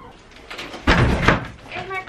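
A door at home is slammed shut with one loud, close thud, heard between bits of speech in a quiet room, followed by a brief rattle as it settles.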